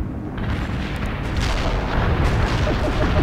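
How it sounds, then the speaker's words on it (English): Dense rumbling roar with crackling bursts from a missile launch in the strategy game World in Conflict, loud and sustained, building slightly toward the end without any speech. "Command reports the missile has been launched."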